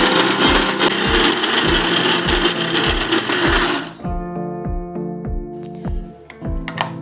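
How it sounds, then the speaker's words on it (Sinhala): A kitchen blender whirs loudly as it mixes rice and milk batter for roti, with a rapid rhythmic chopping pulse, then drops to a slower, quieter spin-down with regular thumps near the end. "දැන් ඇති හොඳට මේක බ්ලෙන්ඩ් වෙලා තියෙන්නේ"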